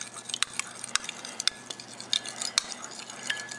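Two eggs being stirred with a utensil in a bowl for pierogi dough, a quick run of close, sharp clicks and taps against the bowl amid a soft wet swishing, with no talking.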